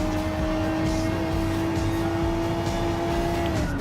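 Gr.3 race cars, including a Corvette, in Gran Turismo Sport, with a steady, loud engine drone holding even pitch throughout and no voices.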